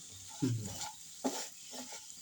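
Okra being stirred in a pan with chilli and turmeric powder, giving two short scraping bursts over a faint sizzle, close and fairly quiet.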